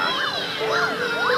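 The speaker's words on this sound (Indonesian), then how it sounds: "Oh, mobil ambulan cuy." An ambulance siren wails in rising and falling sweeps, three cycles in quick succession, fairly loud and close over a low background rumble.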